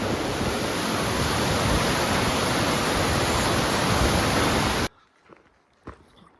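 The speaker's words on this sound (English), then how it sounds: "That's a lot of water." Rushing water beside a lake on the Pacific Crest Trail near Burney, California, a loud, steady broadband roar that cuts off abruptly near the end, leaving only faint scattered outdoor sounds.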